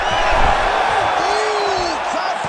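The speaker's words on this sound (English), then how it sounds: "crowd pops as he gets out again" An arena crowd in EA Sports UFC 5 swells with cheers and whoops as a fighter escapes a Kimura, a steady roar with rising shouts beneath a clear whistling tone.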